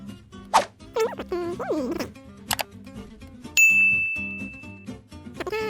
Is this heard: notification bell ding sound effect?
yes